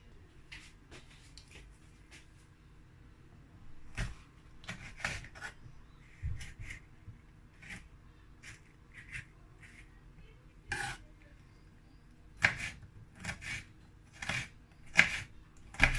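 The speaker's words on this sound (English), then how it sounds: "start cutting my onions and my pepper" A knife chops onions and peppers on a board, with sharp, irregular cutting knocks and taps scattered over quiet room tone, some close together and some spaced apart.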